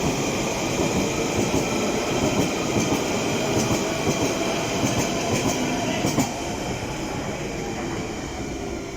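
A London Underground Central line train departs Hanger Lane station toward West Ruislip, a steady rolling rumble with faint wheel clatter and high squeal, close by and alone without talk.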